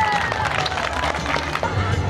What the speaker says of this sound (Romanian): Aplauze pentru copiii noștri!